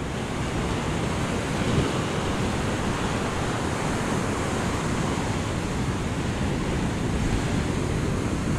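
Sea surf washes over the rocky shore near Hoekop at Glentana, a steady loud broadband rush of waves mixed with wind buffeting the microphone, with no voices.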